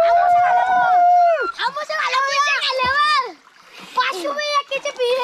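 People splash about in water while bathing at a farmhouse, with bursts of splashing under loud, excited voices of children and adults shouting throughout.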